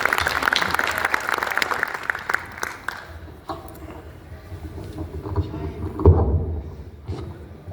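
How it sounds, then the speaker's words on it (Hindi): Audience at a Rajasthani poetry recital in Navi Mumbai claps to welcome a poet, a burst of applause that thins out after a few seconds into scattered claps, room murmur and handling bumps, with some low voices underneath. "एक बार तालियां बजाकर उन्हें आमंत्रित करें।"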